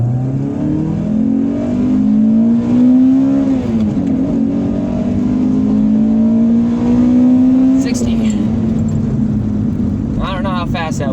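A 2000 Toyota Celica GTS accelerates from a rolling start with the clutch slipping, its engine note loud and close as it climbs steadily through the revs for about eight seconds, dips briefly at a shift, then eases off.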